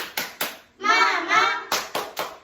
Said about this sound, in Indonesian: kita coba ya tepuk semangatnya sekali lagi ya